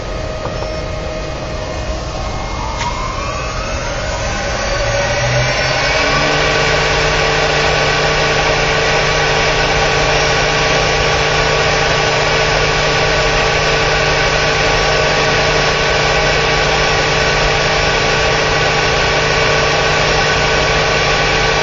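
A 5 hp (4 kW) spindle motor on a test run at about 9,000 RPM gives a loud, steady high whine with a constant hum beneath it. It settles to an even pitch after the first few seconds and keeps going without a break.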